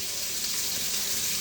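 Boiled eggs drop into hot oil in a wok, giving a steady, loud, hissing sizzle throughout with no talking.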